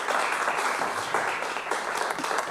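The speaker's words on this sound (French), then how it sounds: "Mesdames et messieurs, sous vos applaudissements, Sylvia." Applause for a performer on a TV show, a steady wash of many hands clapping, dense and continuous throughout, with no talk over it.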